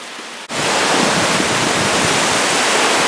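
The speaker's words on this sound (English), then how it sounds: "Gives you a bit of an idea just how much water is coming off the cliff at the minute" Storm water pours off the cliff at Ravenscar after Storm Gerrit and heavy rain. After a half-second lull, a loud, continuous roar of falling water starts abruptly and holds.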